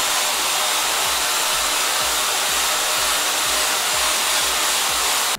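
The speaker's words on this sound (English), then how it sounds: "any excuse to use my Dyson blow dryer, I'm gonna be using my Dyson blow dryer." A Dyson blow dryer runs steadily and loudly from start to finish, a close, continuous airy roar with a faint rhythmic low pulsing underneath, used to heat hair during a dye-fading treatment.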